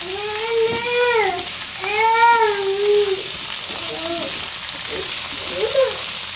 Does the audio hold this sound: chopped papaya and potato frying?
yes